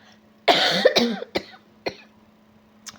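A woman coughs several times in a quiet room: a long, rough burst followed by a few shorter, sharper coughs spaced out, close and fairly loud, with no talking, and a faint steady hum underneath.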